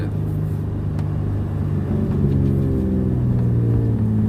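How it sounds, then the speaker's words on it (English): A car engine idling down as the car slows, a low steady rumble from inside the cabin with the revs gently falling and shifting, heard alone without talk. "Hope you guys can hear that little idle down when I'm slowing down the car."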